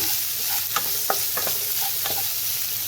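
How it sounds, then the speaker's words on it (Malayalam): Ginger, shallots, onion and garlic sauté in a pan, giving a steady close sizzle with several sharp spatula scrapes and taps as they are stirred. "ഇനി ഇതൊന്ന് വഴറ്റാം നമുക്ക് വഴറ്റി വരട്ടെ"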